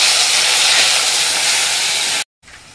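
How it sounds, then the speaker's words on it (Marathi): Ginger and garlic hit hot oil for a mutton masala, giving a loud, steady hissing sizzle that cuts off abruptly near the end, then returns faintly. "आता बघा तेल पण गरम झालं. आता हे आलं लसूण आहे ना ते टाकूया."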